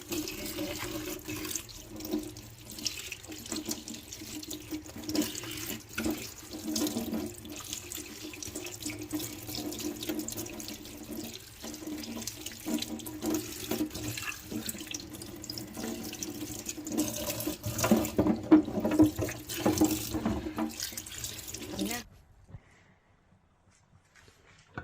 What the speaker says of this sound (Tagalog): Hugasan na natin yung ating gulay.